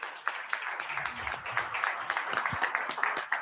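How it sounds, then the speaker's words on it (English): An audience at a live debate event gives a round of applause, steady moderate clapping from a crowd heard at a distance for a few seconds. "Let's give them a round of applause."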